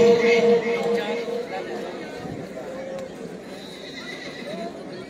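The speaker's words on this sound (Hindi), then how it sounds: "पहली पट्टी से घोड़ा खोला" Horses at an all-Pakistan tent-pegging horse race in Jhelum, a loud whinny followed by hoofbeats and the murmur of a crowd, with voices talking throughout.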